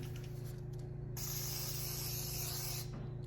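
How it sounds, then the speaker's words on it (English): A WD-40 aerosol can sprays in one sustained hiss for nearly two seconds onto the side of a chrome hubcap, close up, over a constant low hum. "And spray it all on the side of the hubcap."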